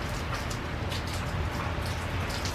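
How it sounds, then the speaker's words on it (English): Steady rain from a peaceful rainstorm, a dense, even hiss of drops pattering on surfaces, constant and fairly loud with no break or voices. "You'll have a nice peaceful rainstorm in the background."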